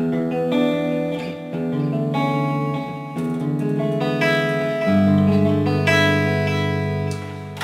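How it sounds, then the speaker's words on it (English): Electric guitar through a Line 6 HD100 amplifier's reverb effect, chords ringing out with a spacious, washy tail that hangs after each change, played alone at a steady, moderate volume. "We can add reverb."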